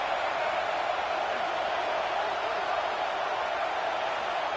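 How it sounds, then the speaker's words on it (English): Steady roar of a stadium crowd in a college football video game, a Penn State versus Clemson matchup, filling the scene as a constant, even wash of cheering noise with no pauses. "This crowd bringing the energy and noise early."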